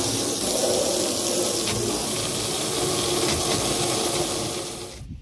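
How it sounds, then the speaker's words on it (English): Garden hose running steadily into a tank, a continuous broad rush of water that holds even for about five seconds, then cuts off abruptly near the end. "So, doing this the slow way with the garden hose."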